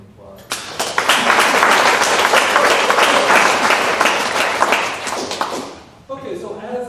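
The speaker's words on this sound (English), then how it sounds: "we should give those entities a round of applause" Audience applause at a Native American artist talk for a museum exhibit, a dense, loud wash of clapping lasting about five seconds before stopping abruptly, followed by a brief voice.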